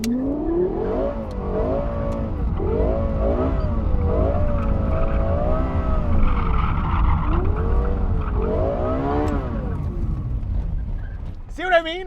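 2012 Lexus LFA being driven hard, its engine revving up and down in repeated sweeps while the tires squeal and slide, loud and close.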